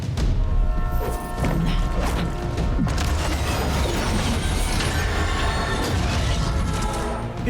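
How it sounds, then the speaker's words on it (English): An Oscorp train in Marvel's Spider-Man 2 rumbles along the rails with heavy low-end drone, metallic clanks and squealing wheels, loud and continuous with no talk. "It's an Oscorp train."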